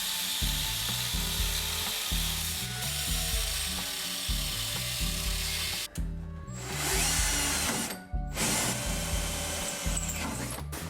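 A power drill whirs in repeated bursts, stopping and starting with a ratcheting, grinding chatter as screws are driven into metal bars, close and loud.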